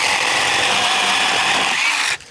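A SeeSii 12-inch battery chainsaw cuts through wood with a loud, steady high-pitched motor whine and chain rasp, then the cut ends abruptly and the sound drops away near the end.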